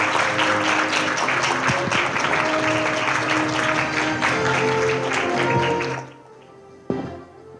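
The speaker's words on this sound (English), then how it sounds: "give Secretary General a warm round of applause" Audience applause for the Secretary General at a parliamentary forum closing, a loud, dense burst of many hands clapping that stops abruptly, followed by near quiet and a single thump.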